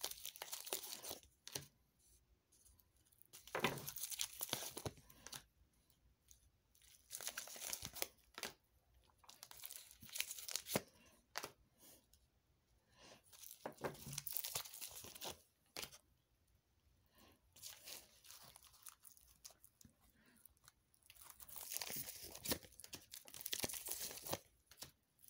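Tarot cards are shuffled and pulled from the deck, producing soft, close papery riffles and flicks in irregular bursts with quiet gaps between them.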